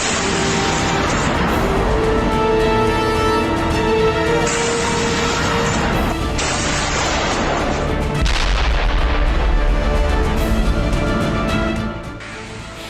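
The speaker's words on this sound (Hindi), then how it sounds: "नॉर्थ कोरिया की तोपें गरज रही हैं" North Korean heavy artillery fires in the Russia-Ukraine war, booms roaring out repeatedly, loud and rumbling, with several blasts overlapping and echoing into a continuous thunder.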